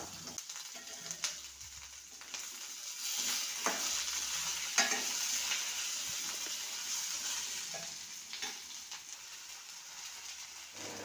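Onions with a little tomato frying in a pan and stirred steadily, a continuous close sizzle broken by clinks and scrapes of the spoon against the pan, with no voices.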